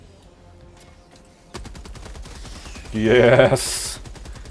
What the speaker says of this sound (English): First time on heavy machine gun.